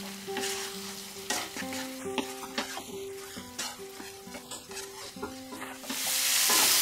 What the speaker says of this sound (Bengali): দু 3 মিনিট আমি মিডিয়াম আঁচে এটাকে কষিয়ে নিলাম